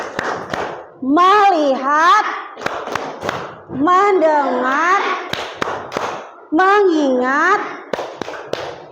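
Classroom of schoolchildren chanting a focus cheer in unison, punctuated by sharp rhythmic claps and thumps between sung phrases, loud and close, with a teacher's voice heard.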